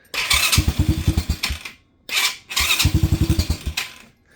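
Venom Madix 125 motorcycle engine with a carburettor problem, choke off, running in two uneven bursts of rapid low firing pulses with hissy intake noise, stumbling and dying out briefly between them, close and loud.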